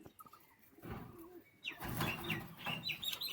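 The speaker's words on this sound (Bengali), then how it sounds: "দেখুন পায়রা কিন্তু ডাক করছে" A pair of pure white Madras pigeons kept for sale coo softly, a few faint low calls mixed with light chirps and background bustle.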